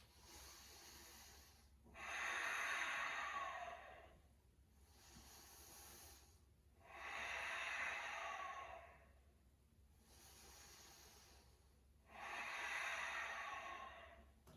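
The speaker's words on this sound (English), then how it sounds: "Let's do 3 more big breaths." Slow, deep breaths taken while holding a yoga lunge, three long airy exhalations spaced evenly about every five seconds, with softer inhalations between, close and quiet with no talking.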